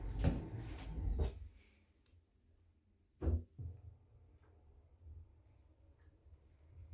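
A couple of low rumbling thuds early on, then a sharp bang as sliding lift doors shut at Richmond Town Centre, London, followed by quiet hum and faint clicks.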